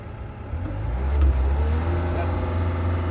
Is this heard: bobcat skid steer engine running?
yes